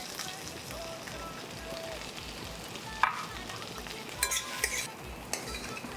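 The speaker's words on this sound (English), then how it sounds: "add the chopped potatoes. We'll mix everything very nicely." Chopped potatoes being stirred with masala and salt in a pan while cooking an Indian dish: soft scraping stirs over a low, steady sizzle, with a few sharper clinks of the spoon against the pan near the end.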